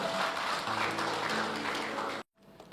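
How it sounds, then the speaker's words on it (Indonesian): A church congregation claps and applauds in one dense, continuous wash of sound that fills the room, then cuts off abruptly near the end. "Kasih tepuk tangan buat Tuhan, saudara."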